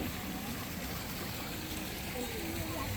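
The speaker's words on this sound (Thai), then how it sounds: "โอ้มีน้ำตกด้วย" A waterfall pours at a newly opened riverside café on Khlong Maha Sawat, producing a steady, broad rushing wash of water that continues evenly and fairly loud throughout.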